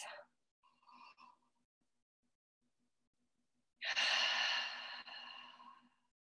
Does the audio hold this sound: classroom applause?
no